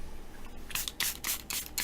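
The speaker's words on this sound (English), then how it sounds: "And don't forget your fruit enzyme spray." A spray bottle of fruit enzyme spray gives several quick, hissing pumps in an uneven rhythm, each one a short, close burst of mist, with no talking.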